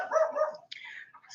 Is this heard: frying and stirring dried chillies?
no